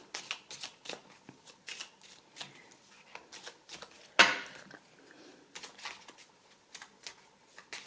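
Tarot cards being shuffled by hand close up, a steady run of soft riffling flutters and slaps with one sharper snap partway through, no talking over it.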